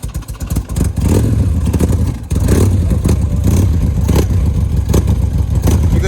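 Built Harley-Davidson Road King motorcycle engine revving hard and close in cold weather, on fuel thought to be E85, a loud throbbing roar that dips briefly before surging again and holding steady.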